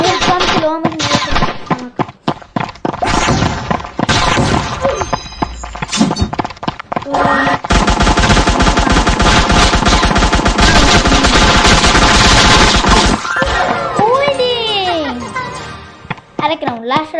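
A sniper-level round of a shooter video game plays rapid bursts of gunfire and impacts, loud and dense in the middle, with a voice talking over parts of it.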